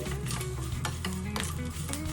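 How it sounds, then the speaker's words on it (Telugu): A spatula scrapes and stirs tamarind in a frying pan in repeated strokes over a soft, constant sizzle, close by with no talking. "ఇప్పుడు కొంచెం చింతపండు కూడా వేసుకొని ఒకసారి కలుపుకోవాలి"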